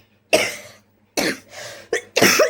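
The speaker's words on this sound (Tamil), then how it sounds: "இந்த இருமல் வந்து என்னை வாட்டி வதைக்குது" Four harsh, close coughs in an uneven sequence, the second a double cough, separated by short silent gaps.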